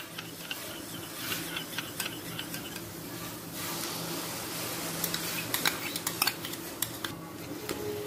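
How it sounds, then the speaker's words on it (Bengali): Spices stirred together with onion, ginger, garlic and sour yogurt in a pot for plain tarka dal, with steady scraping and clinking of a utensil against the pan, a few sharper clacks standing out near the end. "এবার সব মশলা পেঁয়াজ আদা রসুনের সাথে ভালো করে মিশিয়ে নেব।"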